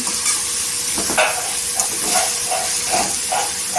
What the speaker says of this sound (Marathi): इथे तेलावर परतलेले आहे सुके मसाले